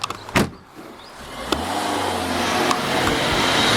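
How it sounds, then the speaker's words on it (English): A car sits with its engine running, a low steady rumble under broadband road and wind noise, interrupted by a few sharp clicks and knocks. "you just keep the car running"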